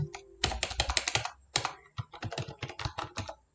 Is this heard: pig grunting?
no